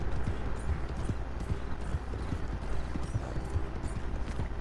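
Steady, rhythmic clip-clop of a horse's hooves in Red Dead Online, close and continuous over a dense game soundscape, with no talk on top.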